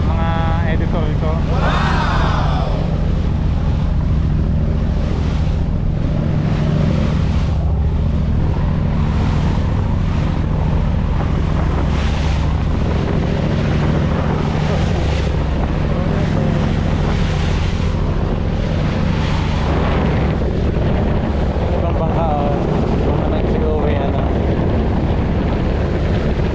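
A boat out on the open sea, with heavy wind buffeting the microphone, constant surf and waves, and a low engine drone running underneath for the whole stretch.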